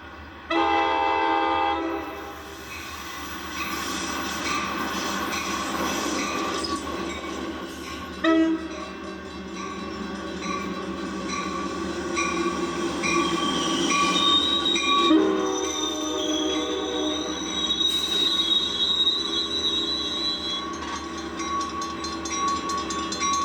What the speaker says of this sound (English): Ace Train 5 comes down the line towards Centerville Depot right on time.